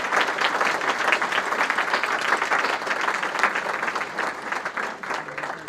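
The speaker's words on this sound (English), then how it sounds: "a round of applause for our spouses that are here tonight" Dense, sustained applause from an audience at a rescue community gathering honoring spouses, a steady wash of many hands clapping with a slight crowd murmur, easing off near the end.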